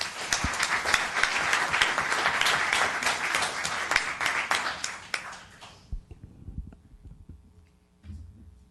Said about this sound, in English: let's give this wonderful business a round of applause